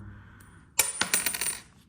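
Coin tossed for an unplugged board-style game activity lands with a sharp metallic clink followed by a few quick rattling bounces before settling, close and alone.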